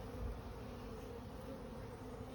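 Honey bees hum steadily around an open hive with no queen excluder, a soft continuous buzz with no talking.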